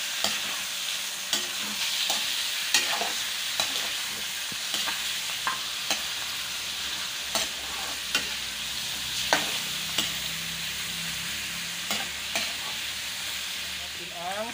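Chicken frying in a pan for adobo, stirred with a utensil: steady sizzle with repeated sharp scraping and clinking strokes at an irregular rhythm, close up and without talk.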